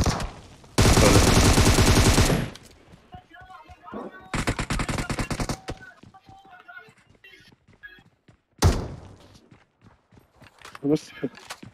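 Bursts of automatic gunfire in the PUBG Mobile video game, loud sustained volleys separated by gaps filled with footsteps and smaller clicks, with a final sharp burst near the end.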